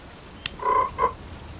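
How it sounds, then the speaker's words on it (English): A toad croaks twice in a cartoon creek setting: a short low croak, then a second briefer one, clear and close after a faint click, over a quiet background. "What is that? A toad."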